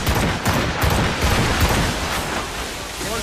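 Ship cannons roar in a naval battle in Assassin's Creed Rogue, a dense rolling barrage of booming blasts with crackling noise, loud and continuous, with shouted voices mixed in.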